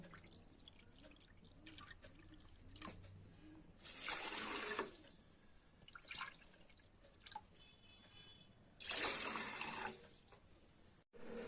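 Water pours into a bowl of sugar in two separate splashing bursts, close and clear against a quiet kitchen with faint drips between.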